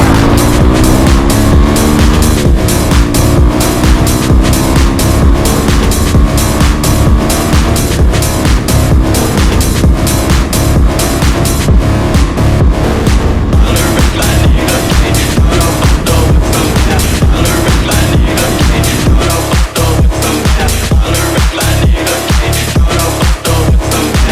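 Motorcycle fitted with a straight-through exhaust plus resonator and no baffle, accelerating hard from 0 to 100 on a straight road; a loud, continuous engine roar with rising pitch and rapid gear-change steps throughout, no talking.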